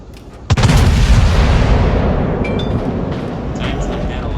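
Battleship main guns firing in the World of Warships naval game, a heavy booming salvo that hits suddenly and rolls into a long dense rumble, with faint game effects above.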